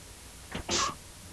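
A single sneeze, short and fairly close, with a quick intake followed by a sharp burst in a quiet room.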